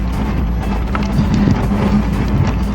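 Steady roar of motorway traffic streaming past a cyclist riding in the time-trial position, a broad low rumble with wind buffeting the microphone, swelling slightly as vehicles go by, with no voices.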